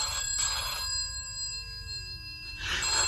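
A telephone rings in a radio drama, giving two short bursts of bright electronic trilling separated by a pause, clear and fairly close against a quiet background.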